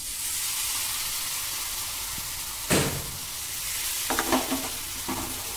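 Hot onion, garlic and masala tempering with turmeric sizzles as a splash of water hits the pan for a Kolhapuri kat curry, giving a sharp hiss followed by softer bursts of frying and stirring.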